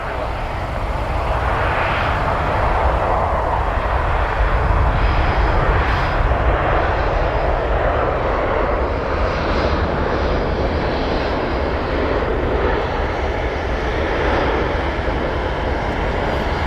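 Airliner landing on runway 17L at Calgary International Airport in February, a loud, sustained engine roar that swells and fades slightly over many seconds, with no speech over it.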